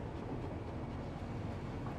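A steady, loud rumble of an automated train running in the factory game Satisfactory, continuous rolling rail noise with no talk over it.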